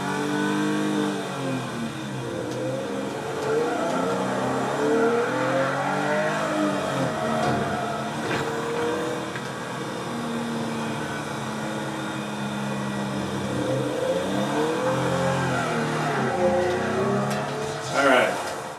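A sports car in the video game Teardown revs its engine hard, a loud, continuous, buzzing drone that climbs and falls in pitch over and over with each throttle push.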